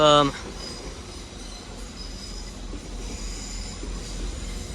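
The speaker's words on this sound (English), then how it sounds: "Got some 185s arriving in now for Liverpool Lime Street." Class 185 trains roll into Manchester Piccadilly with a steady low rumble and faint wheel noise after a brief tonal chime at the start, the station hum continuing at moderate distance.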